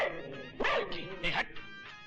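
A dog gives a few short barks and yips close by, mixed in with people talking.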